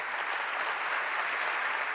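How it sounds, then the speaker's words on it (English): A conference audience at a sustainability summit breaks into steady, dense applause, loud and even throughout with no pauses. "Can we get a round of applause for that?"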